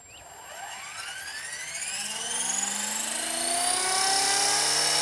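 An RC helicopter spools up for its first flight, the rotor and motor whine climbing steadily in pitch and growing louder over a few seconds, close by and alone.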